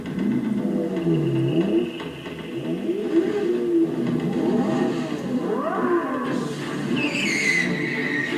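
A Mercedes SLR 722 roars during a race, its engine note rising and falling through gear changes with a harsh rasp, loud and close, plus a higher whine building toward the end.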